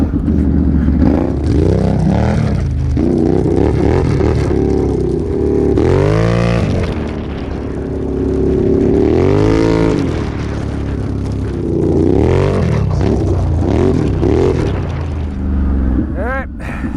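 A Yamaha Raptor 700 and a Can-Am Renegade 1000 ATV race, their engines roaring loudly and close with repeated rising and falling revs as they accelerate and shift, continuous for the whole stretch.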